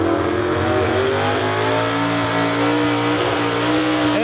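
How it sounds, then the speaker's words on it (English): A Ford pulling truck's loud engine held at high revs at a truck and tractor pull drones steadily, its pitch sitting flat near the top as it bounces off the rev limiter, with no voices. "Yep, it's hitting the rev limiter."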